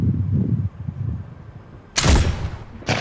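A video game gun fires once, a loud, sharp, broadband crack that rings out after a stretch of low rumble, followed by a shorter second burst near the end.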